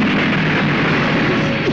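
A remote-controlled bomb blasts a flower vase in a Bangladeshi action movie scene, heard as a loud, continuous roaring rumble with no clear single bang, lasting the whole moment with no voices.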